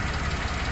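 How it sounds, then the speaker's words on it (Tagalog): The Suzuki Scrum's F6A engine, in a vehicle with a 4WD malfunction, runs just after starting, giving a steady, loud, close idling drone with a rough, knocking texture. "So ayan, umaandar ng makina natin."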